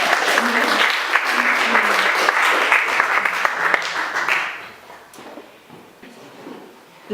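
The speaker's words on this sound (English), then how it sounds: "I think we should give Chrissy a bit of a round of applause" Audience applause for a woman who came up on stage at a Christian gathering, a dense, steady wash of many hands clapping for about four seconds before thinning into scattered claps and quieter room sound.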